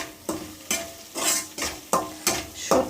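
Masala paste of chili, coriander and cumin powders is stir-fried in a pan for a dried fish curry with potato and eggplant, with rhythmic scraping strokes about every half second over a soft sizzle.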